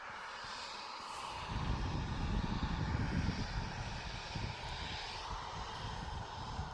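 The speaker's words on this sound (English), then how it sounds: "Ryanair off to Rome. Going to roam down the runway." A Ryanair jet airliner bound for Rome takes off from Manchester Airport, its engines a broad distant roar that swells over a few seconds and then holds steady, heard alone outdoors.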